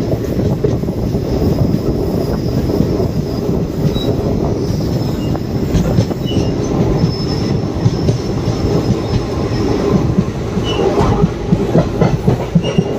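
A Palakkad–Chennai Superfast Express train slowing into Pollachi Junction rumbles along close by, with clattering wheels and occasional high metallic squeals as it moves steadily on the rails.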